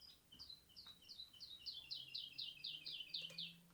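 Birds from the Age of Empires 2 video game sing in a quick series of about a dozen bright, evenly spaced chirps, faint against a quiet background.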